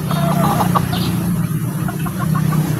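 Chickens, including a pumpkin cross gold hen, cluck in short bursts over a steady low hum, with a few higher bird calls near the start.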